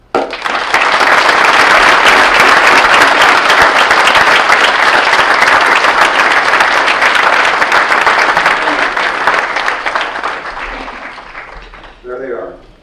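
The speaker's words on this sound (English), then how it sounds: "So we applaud you." Loud, sustained audience applause honors veterans at a Veterans Day ceremony at Washburn Tech, swelling quickly and holding for about ten seconds before fading, followed by a brief spoken voice.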